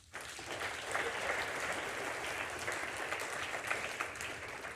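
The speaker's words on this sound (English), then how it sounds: "A round of applause, please." An audience at a marketing keynote event breaks into sustained applause, a dense, even wash of many hands clapping that swells quickly and holds for several seconds.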